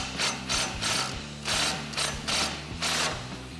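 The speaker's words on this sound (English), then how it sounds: "Grab your 18 millimeter socket and 19 millimeter wrench" A ratchet fitted with an 18 mm socket tightens a nut on a replacement front bumper for a 2013–2018 RAM 1500 HD, giving rapid clicking bursts in a quick back-and-forth rhythm, close and clear.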